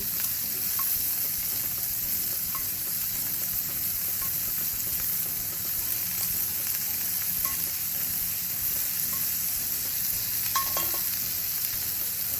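Pieces for herb-crusted rack of lamb with dauphinoise potatoes sizzle steadily in a shaken pan, a constant bright hiss with a few faint clinks and one sharper knock near the end, no talking.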